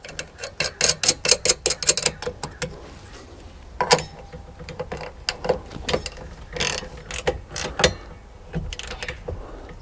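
A 14mm nut is run onto a metal stud of a Jeep JKU Hi-Lift mount with a ratchet, giving quick bursts of close mechanical clicking with short pauses between them.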